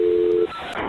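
A telephone tone plays while a 911 call is transferred, one steady beep lasting about half a second, then a quiet line hiss.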